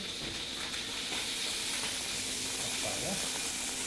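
Cherry tomatoes frying in a drizzle of olive oil in a hot pan, giving a dense, steady, close sizzle that fills the whole stretch, with a voice faintly underneath.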